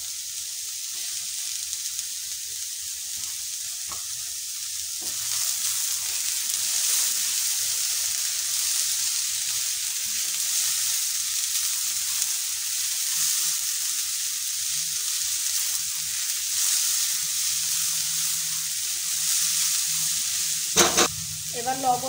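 Ginger frying in a pan of oil while a spicy puli pitha filling is prepared, a steady, fairly soft sizzle that runs throughout, with a brief clatter near the end.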